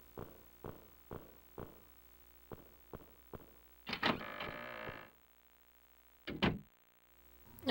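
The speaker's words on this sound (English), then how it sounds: "Alright, let's check this door here." A door creaks open in the Clock Tower video game, preceded by a series of evenly spaced knocking or footstep-like clicks, then a loud swelling creak and a few later sharp game effects, with no talking.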